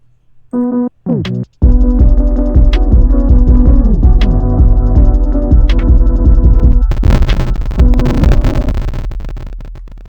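Loud electronic music made from layered samples in Ableton, with a heavy, throbbing low beat and stacked synth layers, a few stuttering hits at the start before the full mix kicks in and builds.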